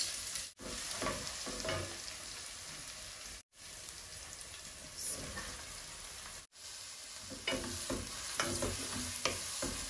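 Ginger and garlic fry in hot oil with whole spices while a spoon stirs them, a steady close sizzle broken by three brief gaps and scraping strokes in the pan, no talking.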